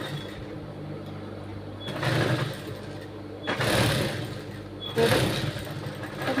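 Sewing machine stitching a blouse back neck runs in short motorized bursts, three distinct whirring runs separated by quieter pauses, fairly faint and close.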